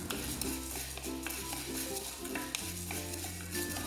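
Fenugreek seeds dry-roast in a pan over a low flame, a faint scraping stir of seeds against metal under steady tonal background music, with no voices.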